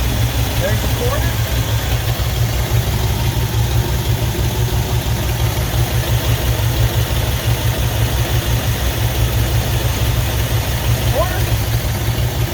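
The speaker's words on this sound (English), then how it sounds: "And the engine idle should start to come up a little bit as we go." A 1978 Ford F150 engine idles steadily with a constant low rumble and even mechanical vibration, close and loud throughout without breaks.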